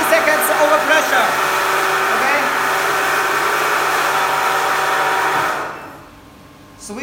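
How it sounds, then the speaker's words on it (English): A vacuum pump on a SuperbMelt vacuum pressure jewelry casting machine drones steadily and loudly for about six seconds, then cuts off, leaving near silence. "Switch off the vacuum pump."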